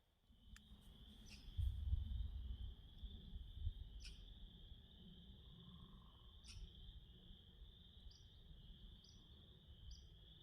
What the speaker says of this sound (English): Tree frogs, toads, and other frogs very vocal.